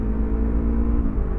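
Steady engine rumble and whir from a vehicle on the road, as a police vehicle overtakes from the left, loud and continuous for the whole moment with no talk.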